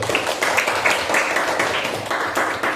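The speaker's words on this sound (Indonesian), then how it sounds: "silakan kita tepuk tangan dulu" A classroom of students claps together in steady, fairly loud applause lasting a few seconds, with a faint voice underneath.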